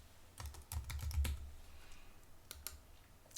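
Quick bursts of computer keyboard typing as a chart axis title is entered in a spreadsheet, a cluster of close, crisp key clicks followed by a few isolated taps in a quiet room.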